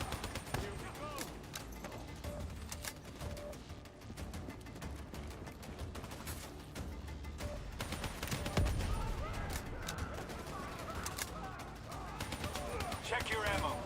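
Dense, rapid gunfire from a weapon in Call of Duty Black Ops 3, with overlapping bursts and continuous clatter over busy game sound.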